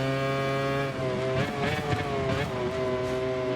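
Race car engine in a racing video game on the Bugatti Circuit, a steady high whine with stacked harmonics that shift in pitch as it accelerates and decelerates, loud and continuous with no talk.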